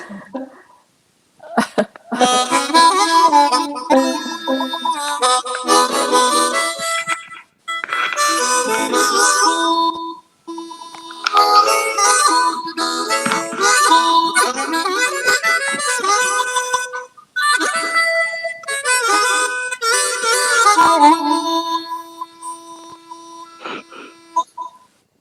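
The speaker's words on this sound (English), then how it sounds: "It's the sound of the harmonica" A harmonica plays a lively tune with bright, reedy chords in bursts separated by short pauses.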